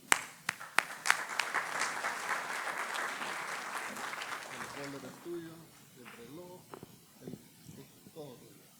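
Audience applause at a conference on LPG and conventional fuels, a dense burst of clapping that fades over a few seconds into scattered claps and a person beginning to talk.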